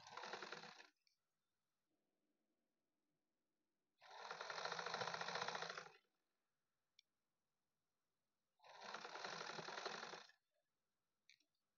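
A sewing machine stitching cloth runs in three bursts of rapid mechanical whirring about two seconds each, separated by quiet pauses with faint handling clicks, close up.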